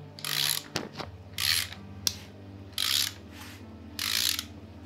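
Ratcheting wrench clicks in short repeated bursts while bolts on a Nissan 350Z's timing components are tightened, with a low steady hum and a few sharp metallic knocks in between.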